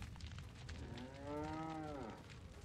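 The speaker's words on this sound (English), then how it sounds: "There's a cow." Cow in the video game Resident Evil 4 giving a single drawn-out moo, rising and falling, over a low ambient game background with no talk.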